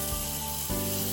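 Smash burgers with onions sizzle loudly on a hot griddle, a dense continuous fry with a brief dip as a patty is flipped over, no talking.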